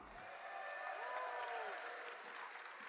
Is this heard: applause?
yes